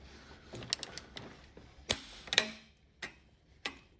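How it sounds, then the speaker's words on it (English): Torque wrench tightening a foot peg bolt on a KTM 1290 motorcycle during a lowering kit install, giving a few sharp separate clicks and ticks spaced across a quiet moment, close and fairly crisp. "Being tightened up now with a torque wrench."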